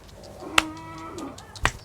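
Cattle at a cattle and buffalo market in Wang Prachop, Tak, Thailand; one clear moo rises and falls, with a sharp knock near the start and another near the end against a quiet background.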